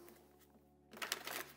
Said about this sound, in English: So let me just give here another quick shuffle.